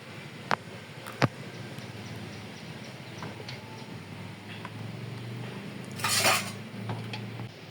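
Spoon scraping and clinking against a metal pot while serving rice payesh sweetened with jaggery, with a few sharp knocks early and a brighter scraping burst near the end, no talking.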